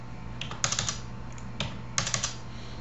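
Typing on a computer keyboard while entering a daily advertising budget, with scattered clusters of quick, light key clicks separated by brief pauses, close and clear with no talking.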